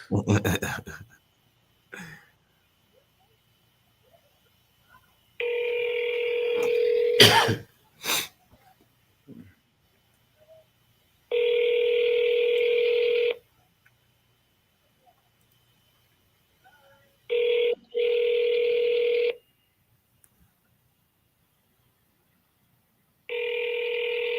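An outgoing telephone call rings out with repeated long, loud electronic ring tones separated by silent gaps, after a few short dialing clicks and snorts at the start.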